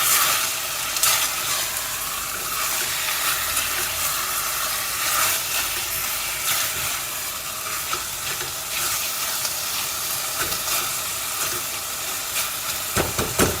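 Lamb meat tossed into a hot pot for a stew and stirred, giving a steady loud sizzle and hiss with scraping stirs throughout, no voices.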